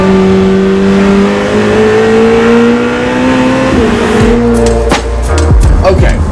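A 2026 Lamborghini Temerario sports car drives on canyon roads, its engine droning steadily with rising pitch as it accelerates, then a sharper shift in tone near the end, loud and close, with a voice faintly underneath.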